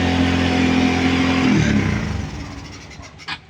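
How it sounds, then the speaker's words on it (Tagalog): Motorcycle engine racing in neutral with a carburetor overflow problem, a loud revving drone that holds high, then drops and fades as the revs fall, ending with a few sharp knocks and a brief mechanical clatter. "Ang lakas ng wild, hindi pa nakapika. Gusto na kagad umalis yung motor eh."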